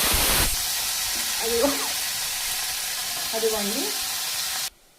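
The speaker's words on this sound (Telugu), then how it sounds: "ఇప్పుడు మనము కడుక్కున్న బంగాళదుంపలు వేసేసుకుందాం" Washed potatoes tumble into hot tempering oil with green chillies, setting off a steady, loud, close sizzle that carries on throughout and stops abruptly at the end, with a brief spoken word early on.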